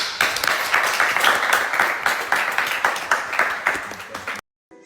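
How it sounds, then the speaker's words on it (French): An audience applauds with dense, sustained clapping that stays loud for several seconds, then cuts off abruptly into silence. "On les applaudit."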